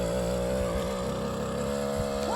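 Classic Ford Fiesta XR2 engine held on the rev limiter, a steady high buzzing drone with slight stutters, loud and continuous inside the car.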